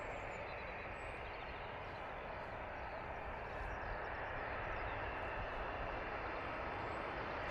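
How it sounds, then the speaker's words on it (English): An EasyJet A320 airliner comes in to land, heard as a steady, broad, distant jet roar that swells slightly toward the end of a few seconds. "Here we go, EasyJet coming in."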